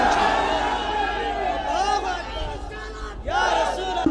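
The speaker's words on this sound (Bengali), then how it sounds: "কারা কারা ইমানদার দুই হাত তুলে স্লোগান লাগান ইনশাআল্লাহ" A large crowd at an Islamic waz sermon gathering chants a slogan in unison with raised hands: loud, massed voices rising in two strong swells over a few seconds.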